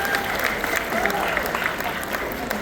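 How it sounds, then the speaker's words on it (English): A crowd at a SeaWorld Orlando Rescue Tails animal show applauds in a steady, dense wash of clapping and cheering, with a voice audible underneath. "let's go ahead and give him a big round of applause"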